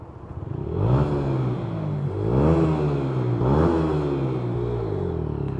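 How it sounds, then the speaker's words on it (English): A two-stroke motorbike engine revs up and down in repeated rising and falling surges, loud and close, with a buzzy harmonic whine and no talk over it. "I love the sound of my bike."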